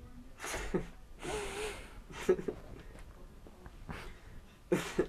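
Several throat-clearing and coughing bursts, breathy and spaced out over a few seconds, fairly quiet and close.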